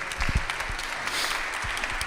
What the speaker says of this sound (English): why don't we give Glenn a huge round of applause